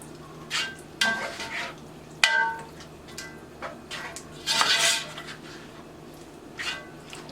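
A spoon stirs spinach lasagna filling in a bowl, making several separate wet squelching scrapes and clinks in irregular bursts against a quiet background.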